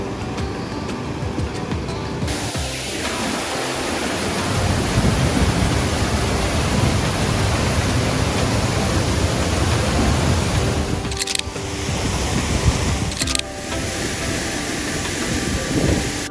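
The Dhani waterfall in the Neelum Valley of Kashmir gives a constant loud roar of rushing water, a dense broadband wash that fills the whole scene without pause.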